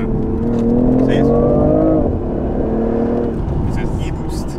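BMW i8 hybrid sports car accelerating hard with electric boost, a rising engine note climbing steadily and then dropping as it shifts, heard from inside the cabin, loud and sustained.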